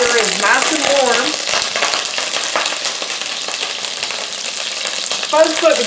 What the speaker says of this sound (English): we will go ahead and start browning our meat rolls